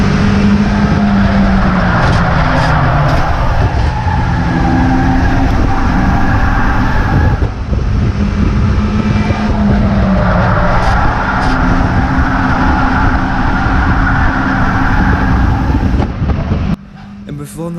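Race cars running on a track during a race, a loud continuous engine roar with rising and falling revs as cars pass, an excited voice commentating throughout, and the noise briefly dropping away near the end.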